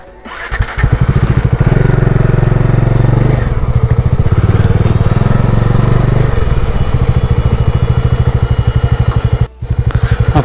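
A motorcycle on a Konkan coastal road near sand starts and runs close by, its engine pulsing in a loud, rapid, steady chug that continues throughout with a brief dip near the end.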